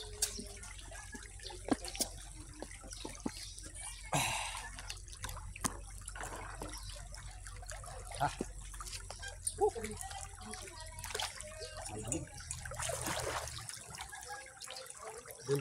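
Hot bath water being poured and splashed outdoors in sunshine, faint intermittent drips, trickles and splashes over a low steady background, with occasional brief voices.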